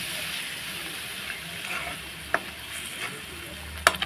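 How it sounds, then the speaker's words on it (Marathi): Egg masala gravy sizzles in a pan as water is added and stirred in, giving a steady frying hiss broken by occasional sharp clicks and scrapes of the spoon. "यामध्ये थोडंसं पाणी टाकून घेणार आहोत। थोडं म्हणजे एकदम 1 कप पाणी होईल इतकंच टाकून हे मिक्स करणार आहोत।"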